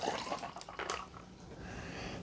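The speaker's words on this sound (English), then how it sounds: "Let's add 1 cup of water." A cup of water is poured over ice in a Ninja Blast portable blender, a short splashing gush with bright droplet sounds that settles into a faint trickle.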